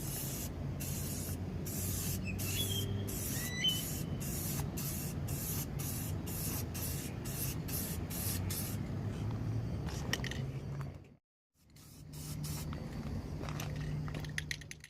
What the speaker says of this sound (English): make sure your can is up straight like this, and you're gonna start spraying and then go across